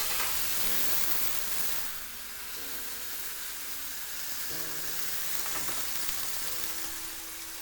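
Beef burger patties frying in a hot pan for a triple bacon cheeseburger, a steady close sizzle and hiss throughout, briefly louder at the start, with faint tonal clinks in the background.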